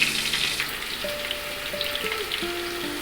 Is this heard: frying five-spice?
yes